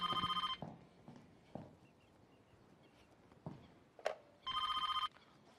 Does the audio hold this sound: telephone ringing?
yes